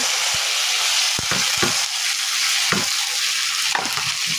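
Chilies, onion and garlic frying in soybean oil in a wok: a loud, dense sizzle broken by repeated clattering stirs of the spatula.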